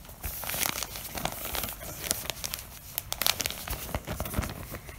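Paper rustles and crinkles as a postal letter envelope holding banknotes is handled up close, an uneven stream of crumpling, rubbing and small tearing sounds without pause and without any speech.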